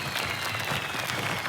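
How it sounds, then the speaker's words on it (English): Brief burst of dense audience applause and clapping from a crowd welcoming a guest on a football fan talk show, steady and loud throughout. "I need everyone to fucking clap right now"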